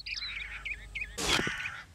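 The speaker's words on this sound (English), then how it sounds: "I hear birds." Birds in the Postal 4 game chirp and tweet in short repeated calls, light and fairly close, followed by a brief louder burst of noise near the end.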